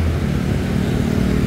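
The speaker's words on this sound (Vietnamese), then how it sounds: "Ở trên đây mình có thể được ngắm xe cộ đi lại" Street traffic on Nguyen Chi Thanh street in Hanoi, heard from above, is a loud, steady rumble of motorbike and car engines with no voices.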